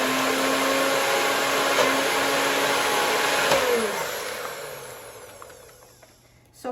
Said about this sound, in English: let's process it until we blend it